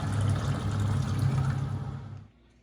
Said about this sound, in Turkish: tarhanamın üzerine suyumu ekliyorum. Ilık su ekliyorum.